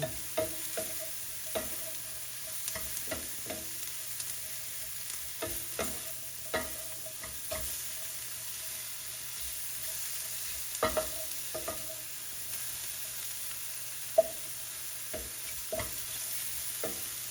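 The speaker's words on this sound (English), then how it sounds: "you don't want the onions to burn, and you definitely don't want the mushrooms to burn, but you want them to turn a nice golden brown" Onions and mushrooms fry in a pan for beef stroganoff, a steady low sizzle with repeated light scrapes and knocks as a utensil stirs them, close and moderately quiet, without any speech.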